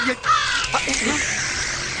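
A crow gives a few harsh caws near the start, loud and close. Voices talk around the calls.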